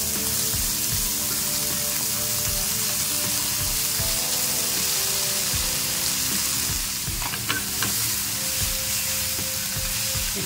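Sweet corn for chaat sizzles loudly and continuously in a pan, with repeated scraping strokes of stirring running through it, close up and with no talking.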